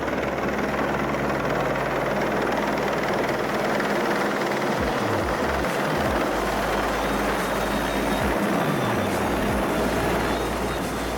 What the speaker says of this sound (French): L'attraction du moment est l'arrivée et l'appontage de l'hélicoptère